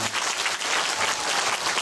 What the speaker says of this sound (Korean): 안 계시면 큰 박수 한번 보내주시면 감사하겠습니다